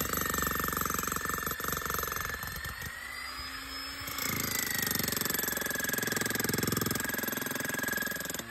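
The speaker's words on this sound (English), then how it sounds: "we'll jackhammer the whole cement pad to see if that's the leak" A jackhammer breaks up a cement pad at an off-grid hydro site while searching for a leak, giving a loud, steady pounding roar that dips briefly midway before resuming at full strength.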